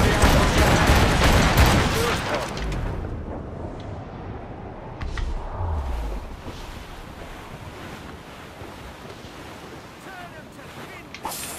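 A ship's cannon broadside in Assassin's Creed Rogue opens loud with a rapid string of deep booms over crashing surf and wind, then settles into rolling waves and wind as voices talk.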